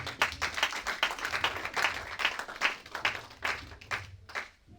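A church congregation claps together in a steady, brisk rhythm in praise of Jesus, the sound close and fairly loud for several seconds before it fades out.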